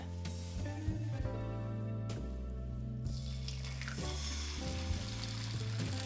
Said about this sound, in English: And also like egg, like sunny side up. I'm making one.